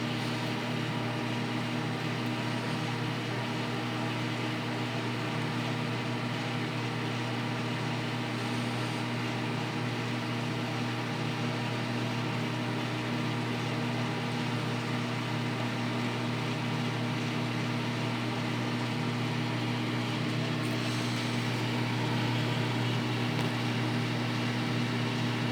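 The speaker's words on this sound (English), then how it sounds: "I'm putting 3 eggs in a microwave at the same time." A microwave oven hums steadily with three eggs inside, a constant electrical drone with a low buzz that holds at the same level throughout, heard close and without voices.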